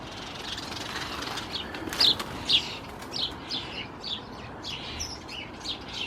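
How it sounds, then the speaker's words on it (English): Small birds sing from a roadside hedge beside allotments, a run of bright chirps and short trilled phrases repeating close by over a steady background hum. "you can probably hear all the birds that are using this hedge"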